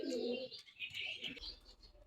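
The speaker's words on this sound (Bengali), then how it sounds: "এখানে কবুতরগুলো খাইতে দেওয়া হয়েছে, এখনো নামতেছে না।" Pigeons that have just been given food coo in soft, low, repeated murmurs, with faint higher chirps over them and no talking.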